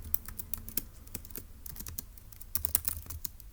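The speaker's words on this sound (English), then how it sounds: "So let's go ahead and type that up." Irregular bursts of key presses on a computer keyboard, fairly close and steady, with no voices over the clicking.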